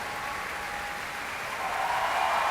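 Sustained applause with cheering from a Proms concert audience after a youth orchestra's Mahler performance, a dense even roar of clapping that swells slightly toward the end.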